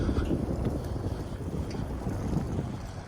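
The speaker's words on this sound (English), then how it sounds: "It's so windy out here that the leaves were like fluttering." Strong wind blowing outdoors on a city street, a constant low rumbling roar with gusty buffeting, loud and close, and no voices.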